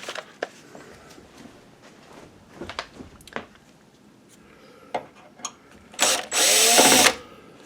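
A power tool backs screws out of a projector's illumination module, with scattered clicks and handling taps, then one loud whirring burst of about a second near the end.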